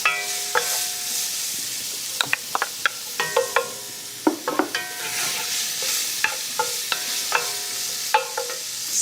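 Sliced garlic and chopped onion sizzling in a pan, a steady moderate frying hiss punctuated by repeated sharp clacks and scrapes of a spoon stirring against the pan.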